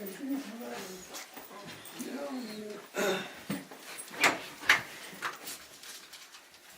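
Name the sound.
dog whimpering and panting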